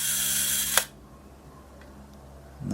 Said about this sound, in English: you'll hear the clockwork mechanism as I fire the shutter